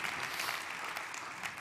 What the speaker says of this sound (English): Could we give this excellent panel a round of applause, please?